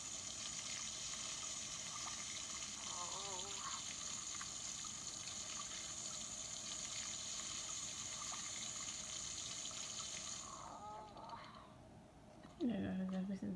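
Water runs steadily into a sink in The Sims 4, a constant hiss that stops near the end. Soft voices murmur over it.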